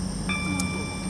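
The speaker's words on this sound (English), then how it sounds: "Why is this train locomotive so loud?" A train locomotive engine in the Roblox railway game SCR drones loudly and steadily, a continuous low hum with a faint high whine on top.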